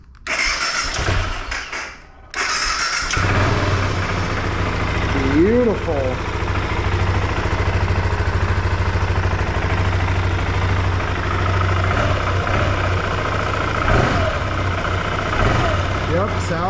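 BMW F 650 CS motorcycle, a non-running bike being revived, cranks over and fires up, then settles into a steady low single-cylinder idle that runs on continuously, with someone speaking briefly over it.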